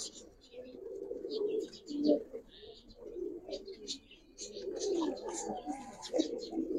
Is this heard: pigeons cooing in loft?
yes